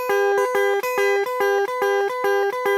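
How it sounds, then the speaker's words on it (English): Two fretted guitar strings strummed together in a steady, even rhythm, about seven close, clear strums each ringing briefly before the next. "Your guitar should sound something like this."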